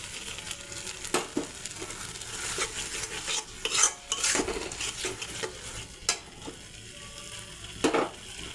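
A ground spice paste with nut paste and coriander leaf frying for a carp fish curry, a soft steady sizzle broken by repeated clinks and scrapes of a spoon stirring against the pan.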